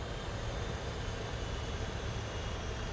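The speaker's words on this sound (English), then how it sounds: "The engine's idling." Boeing 747-400 engines idling on approach in a flight simulator: a steady, even broadband rumble and hiss, constant in level throughout, with no voices over it.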